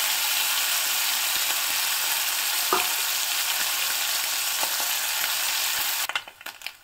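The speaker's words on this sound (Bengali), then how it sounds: "এখন মৌরলা মাছ ভাজার জন্য আমি কড়াইতে দিয়ে দিয়েছি 2 টেবিল চামচ পরিমাণে সর্ষের তেল" Mola carplet fish frying in mustard oil in a wok, a steady close sizzle and crackle running unbroken for about six seconds with a few small clicks, then cutting off abruptly.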